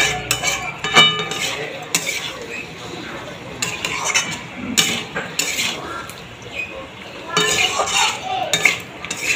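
Vegetables, potato, pointed gourd and soybean chunks, are stirred with spices in oil in a pan, giving repeated metal clinks and scrapes of the spoon against the pan with a soft frying hiss underneath, fairly close.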